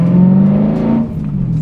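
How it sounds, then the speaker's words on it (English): BMW E92 M3 exhaust revving loudly and close, a steady throaty drone that holds high and then dips slightly as the revs ease off, with no talking. "difficult to do that when you get to listen to that exhaust system"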